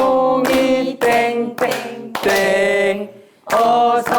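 Children clap along to the beat of a Korean school song, a series of close, loud hand claps in steady rhythmic bursts with short pauses between groups, while singing voices run underneath.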